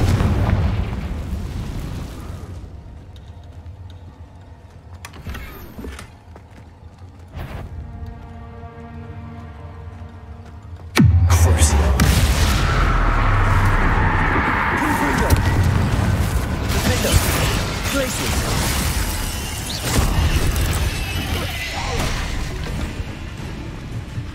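Confringo fire spell explosions in the Hogwarts Legacy video game: after a quieter stretch with game music and a few sharp bursts, a loud booming blast erupts and rumbles on with crackling debris to the end.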